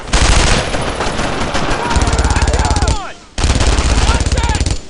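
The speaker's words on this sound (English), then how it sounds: "Unload on them! Suppressive fire!" Sustained machine gun suppressive fire in the World War II shooter Brothers in Arms: Road to Hill 30, loud rapid bursts with a brief pause near the three-second mark, shouted voices over the din.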